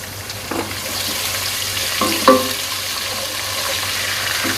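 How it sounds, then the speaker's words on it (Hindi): Sliced onion frying in oil with cumin seeds, heard as a steady sizzle with a few scraping stir strokes and a brief clink near the middle, close and fairly loud, without talk. "और इसको थोड़ा सा फ्राई करना है।"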